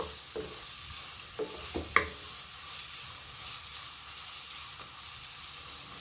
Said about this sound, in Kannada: ಇದು ನೀಟಾಗಿ ಮಿಕ್ಸ್ ಮಾಡಬೇಕು. ಗೋಲ್ಡನ್ ಕಲರ್ ಆಗಿ ಬರಬೇಕು ಈರುಳ್ಳಿ.